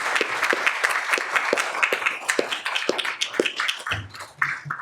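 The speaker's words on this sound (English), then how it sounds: "I'm not taking the applause on my own" Audience applause at a scientific lecture on bacterial immunity, a steady patter of many hands clapping near and loud, thinning briefly near the end as a voice starts to speak.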